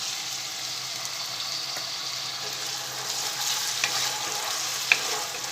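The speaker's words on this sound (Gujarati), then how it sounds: "બટાકાને પણ આપણે 1 મિનિટ સાંતળી લઈશું, એટલે ઉપર આપણે કોટિંગ થઈ જાય તેલનું બટાકા ઉપર પણ" Finely cut potatoes sautéing in oil in a pan for sabudana khichdi, a constant close sizzle with a few light clicks of stirring.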